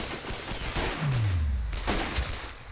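An enemy sniper fires in the shooter game Sniper Ghost Warrior, with sharp gunshot bursts over a rumbling battle backdrop and a low descending tone sweeping through the middle.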